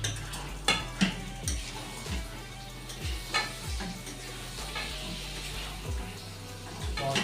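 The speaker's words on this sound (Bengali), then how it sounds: "আলু আর টমেটো একসাথে দিয়ে ভিতরে কষে" Meat being stir-fried down with potatoes and tomatoes in a pan: a constant sizzle broken by rhythmic, fairly loud scrapes and knocks of a spatula roughly every second, with no talking.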